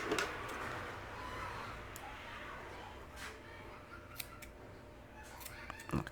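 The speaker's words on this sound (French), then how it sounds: "je vais venir couper mon fil de départ" Scissors snip through crochet yarn as a starting tail is cut, giving a few faint, sharp clicks close by over a quiet, hissy room, with no talking.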